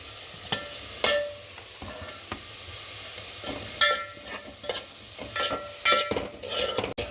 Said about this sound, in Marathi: की हा टोमॅटो घातला, कांदा टोमॅटो जरा बावायला 1 मिनिटभर लागणार।